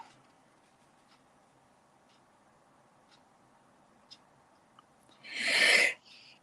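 A single sharp sneeze bursts out after quiet stretches broken only by light ticks and taps at a crafting table, loud and close, with a short trailing breath.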